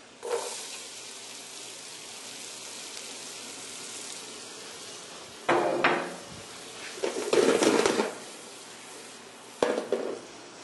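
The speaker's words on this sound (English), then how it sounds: "So right now we'll put in the celery and onions." Chopped celery and onions go into a cooking pot in a few close bursts of clatter and rustle, separated by quiet stretches with faint background hiss.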